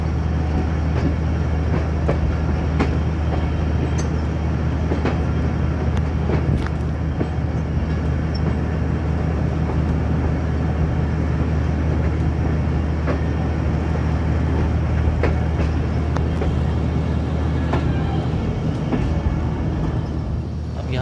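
A Jaffar Express passenger train rolls slowly out of a railway station, its steady low rumble and rail noise continuing loud and close throughout with faint clicks of wheels over track and no talk.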